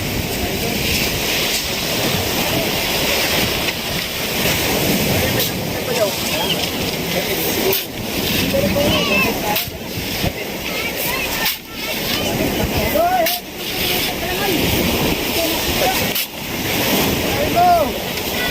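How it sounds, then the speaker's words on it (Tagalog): Steady roar of ocean surf mixed with strong gusting sea wind buffeting the microphone, continuous throughout, with occasional faint voices underneath, at a shore where a large boat is being launched. "Ayan na naman yung malakas na hangin."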